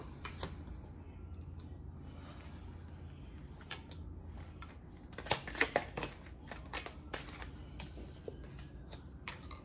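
A new, extra-slippery deck of tarot cards is shuffled on a table, with soft continuous riffling and flicking and a denser burst of card slaps midway, all fairly quiet.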